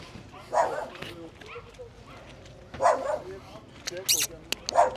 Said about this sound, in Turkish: Havlama o kadar ya.